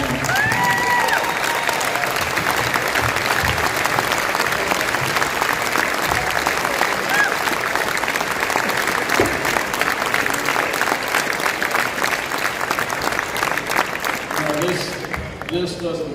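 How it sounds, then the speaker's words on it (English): A crowd at a state championship team recognition ceremony gives former players a sustained round of applause, loud dense clapping lasting throughout, with voices mixed in and the clapping thinning at the end. "Former players, give them a hand."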